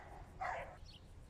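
Dogs bark at each other outdoors: one brief, faint bark from a distance, followed by a softer yip.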